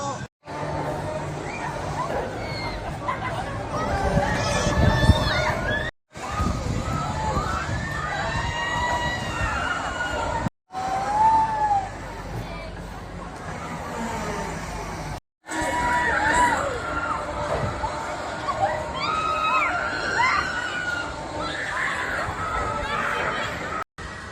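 A crowd of riders screams and shouts aboard a Zamperla Air Race ride at Drayton Manor, loud overlapping cries rising and falling with the ride's movement, broken by brief cuts, with nearby talking.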